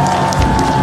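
At a political rally in Siheung, a large outdoor crowd claps and cheers for firefighters and forestry officials in a brief, dense burst of steady applause.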